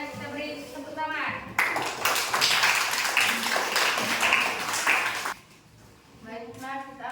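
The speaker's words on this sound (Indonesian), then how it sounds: "kita beri tepuk tangan" A class applauds after a group discussion, a burst of clapping lasting several seconds between stretches of someone speaking.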